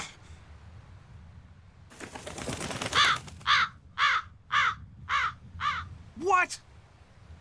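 A crow in the Tales of Berseria video game caws in a series of about seven sharp calls after a rustling flutter, with a voice at low level underneath.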